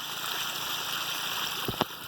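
A backyard pond waterfall, fed by a 4,000-gallon-per-hour pump, pours in a steady close splashing rush, with a couple of brief sharper splashes or knocks near the end.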